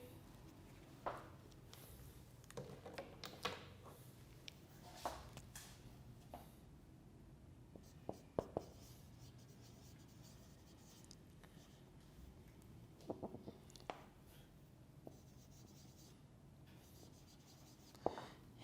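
A teacher writing a grammar rule on a board during an English lesson: faint, scattered taps and scratches of chalk or marker strokes, irregular and soft, with no talk over them.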